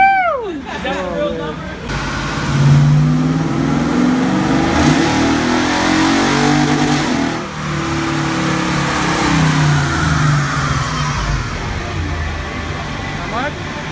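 Toyota car revving hard on a dyno during a club dyno day, the engine climbing repeatedly through the gears in loud rising sweeps, with crowd chatter and cheering underneath.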